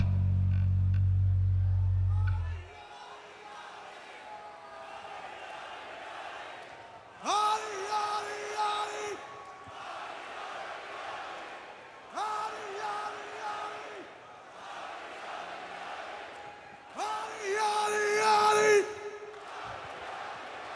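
At the Wacken Open Air metal festival, a large crowd screams a word in unison three times in roughly five-second bursts, each loud, distant shout answering a cue, with quieter murmuring between.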